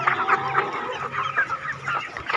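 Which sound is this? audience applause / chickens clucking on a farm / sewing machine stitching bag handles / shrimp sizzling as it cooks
chickens clucking on a farm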